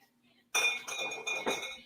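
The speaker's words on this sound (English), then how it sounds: "that sounds like a silverware drawer for sure" Metal cutlery clinks and rattles in a silverware drawer, a sudden burst of bright jangling that continues in several close, fairly loud shuffling clatters.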